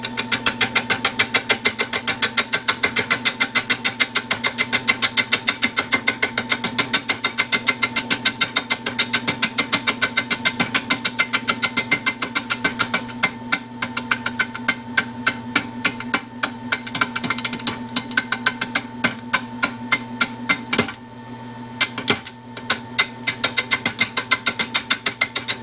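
A roughing gouge cuts a live-edge walnut bowl spinning on a wood lathe. The interrupted cut gives a steady, loud, rapid knocking chatter that continues for the whole stretch and thins out briefly near the end.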